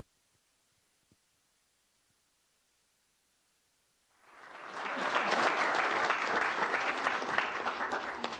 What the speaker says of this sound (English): as you can hear, there's a lot of applause in the room.